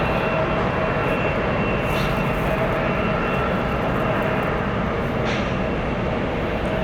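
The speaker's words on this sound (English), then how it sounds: "So we'll stick with the 777-200ER. That one powered by Rolls-Royce Trent 800 engines." A Boeing 777-200ER powered by Rolls-Royce Trent 800 engines near LAX gives a steady, broad jet-engine roar that holds evenly throughout, heard at some distance with no break.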